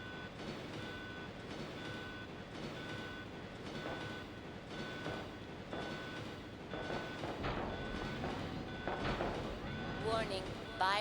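A moving train in the video game Resident Evil 2 on PS1, a steady mechanical rumble with rhythmic clatter and a repeating high warning beep, while a voice speaks over it near the end.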